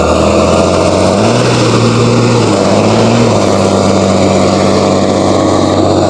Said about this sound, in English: The ragged ass forklift.